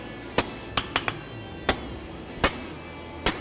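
A hammer strikes a hot steel rivet head at a forge in sharp, metallic clinks, about eight separate blows at an uneven pace, close and fairly loud over a low background hum.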